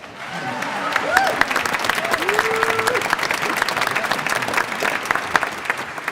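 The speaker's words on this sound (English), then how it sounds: "That deserves applause." An audience at a Martin Luther King Jr. commemoration in Bellingham, Washington applauds steadily, a broad wash of clapping with scattered cheers and whoops throughout.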